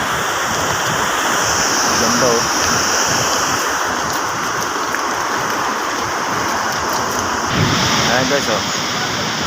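Gullfoss waterfall in Iceland roars as a constant, loud broadband rush of falling water, with people talking briefly over it now and then.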